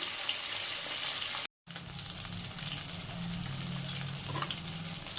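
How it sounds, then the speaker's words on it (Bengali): Steady, crackling sizzle of tilapia frying in hot oil, close and continuous, with a brief silent gap early on and faint clinks. "চলো কটা মাছ ভেজে নিই।"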